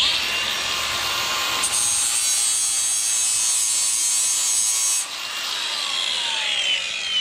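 A power tool cutting through a titanium bicycle frame and throwing sparks, a loud steady abrasive grinding whine that holds for several seconds, dips briefly, then resumes.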